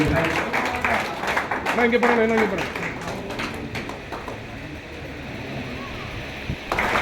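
Audience at a traders' meeting applauds an honoree, a broad wash of clapping that is loud at first and then fades, with a voice over a public address system speaking on top.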